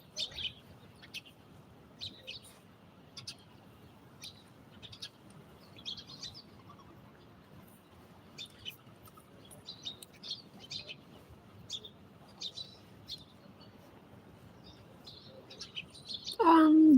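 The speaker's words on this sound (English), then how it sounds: "See so many birds coming now, Greg and Biglon." Small birds chirp in short, scattered bursts over a quiet outdoor background, fairly faint and irregular, with a louder noise at the very end.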